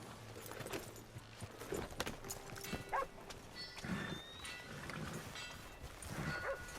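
Horse hooves clip-clop steadily in Red Dead Redemption 2, a soft, continuous rhythm of hoofbeats at moderate distance amid quiet outdoor ambience and scattered game noises.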